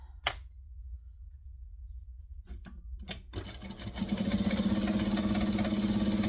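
A few sharp clinks and taps ring out over quiet, then a sewing machine starts up, running fast and steady as it stitches fabric strips top to bottom.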